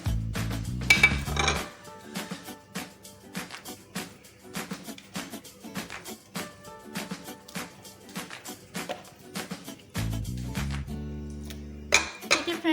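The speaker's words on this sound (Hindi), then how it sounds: "यहाँ एक बोल के अंदर मैं जो चिकन स्ट्रिप्स हैं उनको ऐड करूँगी" About half a kilogram of chicken strips and cubes goes into a bowl, with soft, repeated clinks and taps of the dish and utensils at close range and no talk.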